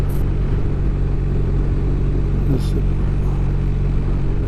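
Car engine holding a steady low rumble as it climbs a fairly steep hill near Bar Harbor, heard from inside the cabin, with no clear gear change standing out.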